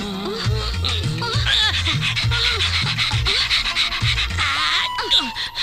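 Rapid, rhythmic panting breaths from a man imitating a dog, close and steady over a continuous music score, with faint laughter-like sounds mixed in.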